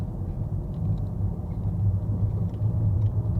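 A car engine hums low and steady as a learner drives in first gear during a driving lesson in Belgium, a continuous near rumble with slight swells as it accelerates, no one talking.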